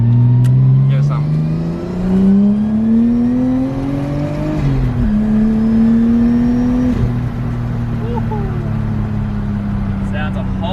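A Nissan Skyline R33 with an RB engine and a new exhaust revs up and down, giving a deep, smooth drone with a raspy edge. The engine is close and loud, sweeping up, dropping, then holding at a steady idle-like note.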